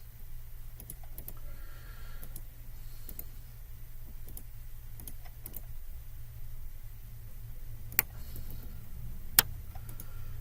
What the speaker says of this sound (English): I'm just going to fly through here and do this through keyboard commands